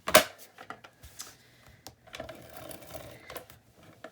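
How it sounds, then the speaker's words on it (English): An ATG adhesive tape gun runs lines of adhesive onto paper for a notepad wallet, giving close, rapid mechanical clicking and ratcheting bursts in an irregular rhythm, alone without talk. "I'm just going to use my ATG gun to fill a couple of lines in"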